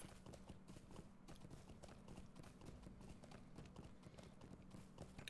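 Horse hooves clip-clop steadily and quickly during a ride in Lord of the Rings Online, set within a dense, continuous game soundscape of ambient noise, at a fairly low overall level with no speech.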